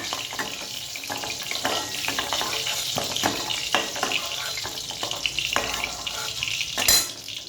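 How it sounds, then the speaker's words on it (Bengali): Chicken koftas fry in oil with a steady crackling sizzle, broken by clinks and scrapes of a utensil against the pan and a louder burst near the end. "কোপ্তাগুলো ভাজা হয়ে গেছে,"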